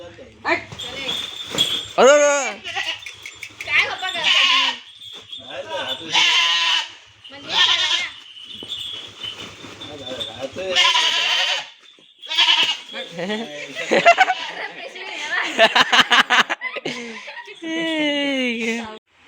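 Goats bleat repeatedly with wavering, quavering cries, loud and close, mixed with people talking and laughing nearby.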